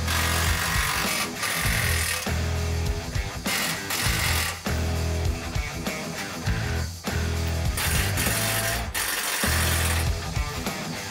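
An impact wrench fitted with chrome-plated impact sockets works on a 2024 Ford Raptor, hammering loudly in several close, buzzing bursts separated by brief pauses, with no voices.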